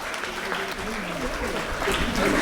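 Applause from the audience at a prize distribution for the 6th Kudremukh Trophy 2024, steady crowd clapping that holds through and swells slightly toward the end, with some voices mixed in.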